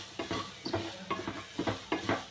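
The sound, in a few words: fenugreek seeds with ginger and garlic frying in a pan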